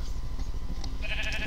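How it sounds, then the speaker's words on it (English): A Minecraft sheep bleats, a short wavering baa rising clearly over a low rumbling background. "Alright, so sheep,"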